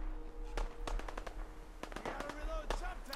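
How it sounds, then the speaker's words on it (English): Distant gunfire from Fallout 4 crackles in scattered bursts of sharp shots, some quick and repeated, mixed with low rumbling and faint background game sounds. "we definitely get close to the gunfire"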